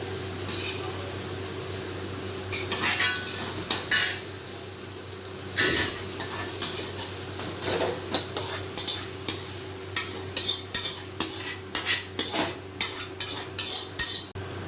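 Paniyaram batter is stirred in a bowl with a metal spoon, giving repeated close scraping and clinking strokes that grow more rhythmic toward the end over a low steady kitchen hum.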